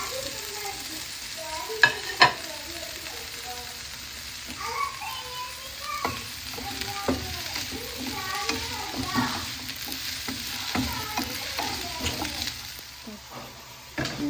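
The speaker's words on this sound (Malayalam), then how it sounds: "നമ്മൾ വേറെ പാനെടുത്ത് അതിലേക്ക് സവാള, വെളുത്തുള്ളി, ഇഞ്ചി, കറിവേപ്പില ഇട്ട് വരക്കണം." Onion, garlic, ginger and curry leaves fry in a pan for a mutton stew, a close crackling sizzle broken by repeated spoon scrapes and stirring clatter, with faint voices in the background.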